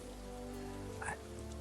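Rain falling outdoors as a soft, steady patter that runs unbroken under a low background hum, with one slightly brighter splash or drip near the middle, fairly faint and distant.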